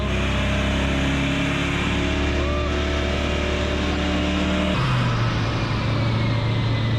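A Nissan S14 with an LSD V8 engine on a dyno holds a steady high-revving drone with harmonic whine, then drops to a lower pitch near the end; loud and close, no talking.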